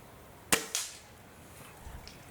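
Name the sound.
Gamo Whisper Fusion air rifle shot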